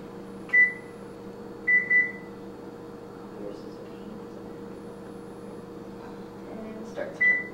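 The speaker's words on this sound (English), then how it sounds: "now we're going to set the timer for 30 minutes." Short electronic beeps from an oven timer being set ring out near a steady appliance hum: a single beep, then a quick pair, and a final pair a few seconds later.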